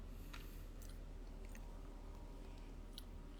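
Quiet, close chewing of chocolate, soft moist squishing and occasional faint crunches in an irregular rhythm, with no talking.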